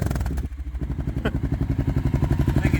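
A red and white 2021 Honda XR650L single-cylinder motorcycle idles close by, its exhaust throbbing in rapid, even pulses that build slightly in loudness, with mechanical clatter from the engine.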